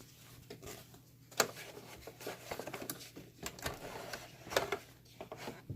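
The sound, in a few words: sewing machine running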